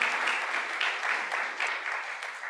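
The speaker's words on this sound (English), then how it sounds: "Round of applause." An audience breaks into steady applause, a dense continuous patter of many hands clapping at close-to-medium distance with no talking over it.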